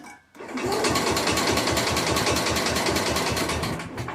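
The 7hp Kohler engine of a 1961 IH Cub Cadet Model 70 garden tractor cranks over on a weak battery after years unused, a loud, fast, even mechanical churning that runs steadily close by without catching.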